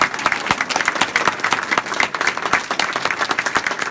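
An audience at a hall of fame ceremony claps steadily after a speech, a dense, close round of applause with no voices above it.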